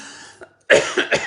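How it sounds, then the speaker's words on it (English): A short burst of close coughing, two or three rough coughs in quick succession after a brief throaty sound. "I'm coughing again."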